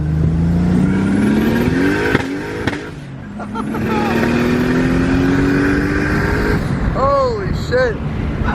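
Turbocharged BMW E30 with an M50 engine revving loudly up close, a rising, roaring pitch that drops briefly and climbs again, with people talking over it and chirping squeals near the end.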